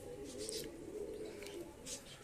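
Pet pigeons cooing on a rainy afternoon, soft low murmuring coos repeating close by, with light chirpy bird sounds and faint background noise.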